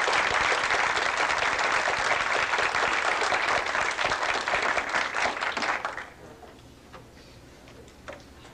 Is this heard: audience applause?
yes